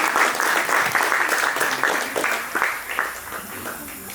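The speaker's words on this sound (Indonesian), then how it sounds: "Tepuk tangan dulu." An audience at an Indonesian education ministry program bursts into dense applause, loud at first and thinning slightly over a few seconds.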